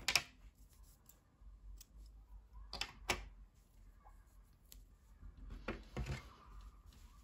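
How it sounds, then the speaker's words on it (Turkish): Scissors snip crochet yarn in a quiet room, a few sharp, close clicks spaced out over several seconds with faint handling noises between. "İpliği kesiyorum."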